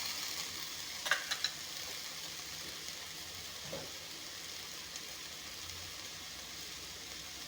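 Fish sizzles in hot oil as a steady, faint hiss, broken near the start by a few sharp crackles and spits and a soft clink of the pan a little later.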